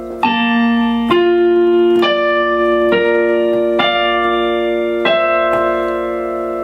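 Piano playing a slow passage from a song, seven sustained chords struck one after another at an even, unhurried pace, each ringing out clearly and alone.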